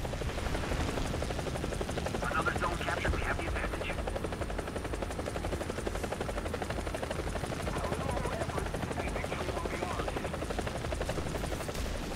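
A helicopter rotor and engine in the War Thunder video game make a steady, fast chopping drone throughout, with faint distant gunfire and a voice talking over it.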